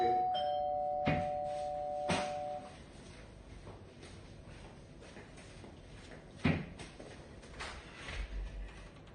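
A hotel room doorbell chimes twice in quick succession, clear and fairly loud, followed by quieter room sounds and a couple of soft knocks or bumps.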